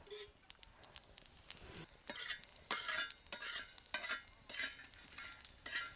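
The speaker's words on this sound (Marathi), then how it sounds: "लहान गरम मसाला हा भाजून घेतो। तेल टाकतो यात" Whole garam masala roasts in oil in a pan for a village-style chicken dish, giving a faint sizzle broken by rapid, uneven bursts of spoon scraping and tapping against the metal.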